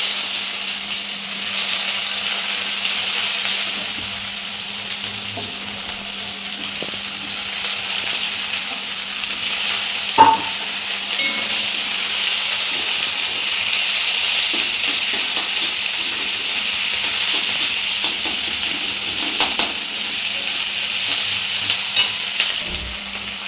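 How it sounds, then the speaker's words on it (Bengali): Onions frying in oil until deep red to make birista, a steady close sizzle running throughout with occasional stirring clinks and scrapes, no voices. "এটা হচ্ছে বেরেস্তা তৈরি করা হচ্ছে, মানে লাল করে ভাজা হবে"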